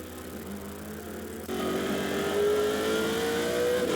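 A race car in Assetto Corsa Competizione sweeps through a high-speed final corner, its engine note loud and steady, then rising in pitch as it accelerates hard out of the bend, heard alone without voices.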